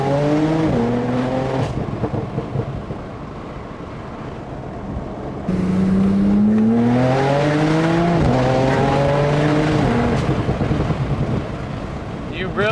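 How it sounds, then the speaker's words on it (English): A modified Porsche 911 Turbo S accelerates hard from a roll in first gear, its engine pitch climbing loud and close through repeated upshifts, each rising sweep ending in a sudden drop, while a person talks over the roar. "All right, let's try a roll on from a first gear,"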